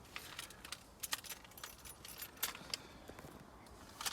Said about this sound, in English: I've got two sets of keys in my pocket and this car key